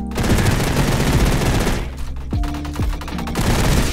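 MP7 automatic fire in the Roblox game Energy Assault, a long loud continuous burst up close, then a short gap followed by several quick shorter bursts with descending tonal shots.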